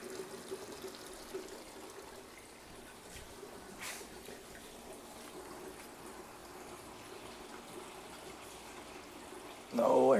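Water pouring from a 3000 GPH roller filter into an aquarium sump under a 20-gallon tank, a steady, even rush with a faint hiss, continuous at moderate level, with a louder burst of noise at the very end.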